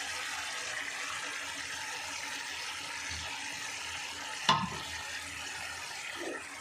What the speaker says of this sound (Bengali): আমাদের মশলা কষানো শেষ